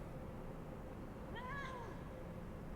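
A person imitates a cat with a single short, rising-then-falling meow, heard alone over a faint low background hum.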